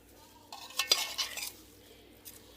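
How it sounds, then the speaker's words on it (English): A spoon clatters and scrapes against a pot while stirring chicken, cabbage and potatoes. A short burst of knocks and metallic scraping rises mid-clip, then fades to a quiet hum with one last faint clink. "So this is what it looks like in the pot. I'm going to stir it up."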